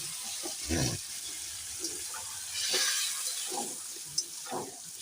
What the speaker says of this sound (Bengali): আমি এখন বেশি জল দেব না অল্পই দেবো